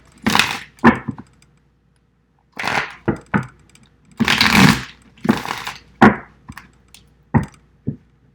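A HooDoo tarot card deck being shuffled by hand in bursts, crisp riffling and slapping of cards near the listener, separated by short pauses, with no talk.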